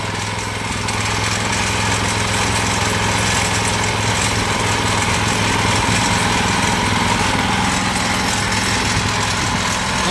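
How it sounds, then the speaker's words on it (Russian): WEIMA Deluxe walk-behind tractor engine running steadily outdoors in snow at minus 7, a loud continuous small-engine drone with a constant low hum, close to the listener and without talk. "Вот мы запускаем наш мотоблок."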